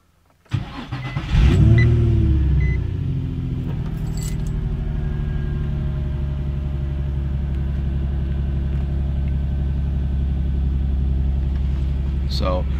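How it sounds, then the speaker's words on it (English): Nissan 350Z with a Momentum intake idling in neutral with the clutch in, the engine catching after a brief clatter and settling into a loud, steady low rumble with a faint transmission-mount noise running under it. "the noise that you hear is probably the transmission mount"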